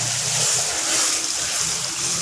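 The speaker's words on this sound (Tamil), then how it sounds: "கொஞ்சம் தண்ணி ஊற்றி கொஞ்சம் நேரம் வேக வைப்போம்" Water pours steadily into crab masala in a cooking pan, a continuous soft hiss and gurgle with no break and no voices.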